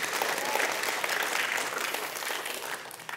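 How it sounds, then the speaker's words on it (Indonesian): Loud applause from a church congregation, dense and continuous throughout, a large crowd clapping together with faint voices mixed in. "Tepuk tangan yang keras untuk Tuhan Yesus."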